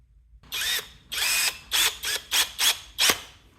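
A power drill boring into a wooden jig for a cutting board project, whirring in one long burst and then several short pulses, close and fairly loud.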